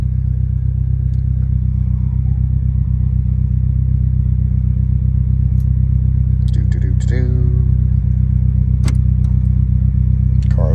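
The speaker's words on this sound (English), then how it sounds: "wait 10 seconds and the car will shut down" A car with a manual transmission idles steadily after a remote start, its low engine hum constant and close, with a few clicks and clatters on top.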